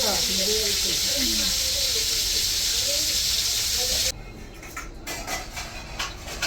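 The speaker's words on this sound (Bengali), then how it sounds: "ফোড়নে দিলাম তেজপাতা, এলাচ, দারচিনি" Bay leaf, cardamom and cinnamon tempering in hot oil for khichuri, with a loud, broad hiss that cuts off sharply partway through and gives way to quieter sputtering and crackles.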